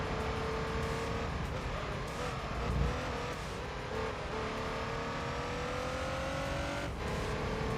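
Roof RGT race car in Gran Turismo 3 pushed hard through corners, its engine holding a loud, continuous high-revving whine that rises and dips with gear changes, with brief tire squeals and no talking.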